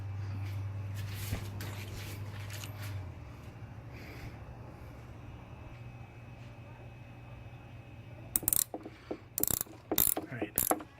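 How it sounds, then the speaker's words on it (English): A ratchet wrench tightens an oil filter on a Maserati Levante, giving faint clicking and mechanical rattles under a low hum, then a burst of sharp, close ratcheting clicks in quick repeated runs near the end. "So I'm going to use the wrench."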